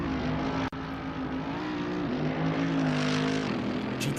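Mercedes-AMG GT3 race car engine on a virtual hill climb, a steady droning roar with sustained tonal whine that shifts pitch slightly as the car accelerates, loud and close, with one brief cut.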